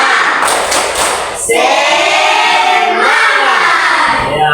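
A classroom of students claps a quick rhythmic tepuk semangat spirit clap, a few sharp hand claps followed by the group chanting together.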